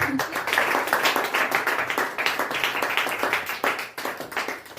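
A church conference crowd applauds Jesus with dense, sustained clapping and some cheering, loud and close, carrying on steadily before easing slightly near the end.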